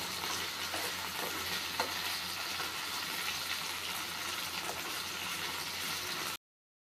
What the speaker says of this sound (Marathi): मस्त फ्राय करून घेऊयात.